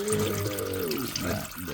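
Transmission fluid drains steadily from a Toyota MR2 during a transmission service, a continuous close liquid trickle and splash with no talk over it.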